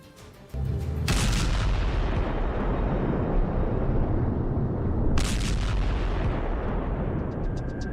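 Missile attack explosions on the Gaza Strip: a loud sustained roar of blasts and rumbling erupts after a quiet start, with a second sharp burst midway, continuing without speech.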